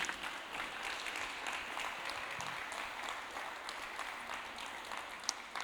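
Steady, dense applause from a church congregation at a Thursday worship service, a continuous wash of many hands clapping at moderate distance that holds evenly throughout without talk.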